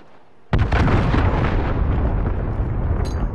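A cruise missile strike in Call of Duty lands with a sudden loud blast after a brief quiet lead-in, then rolls into a long, heavy rumbling roar that slowly fades, with no voices.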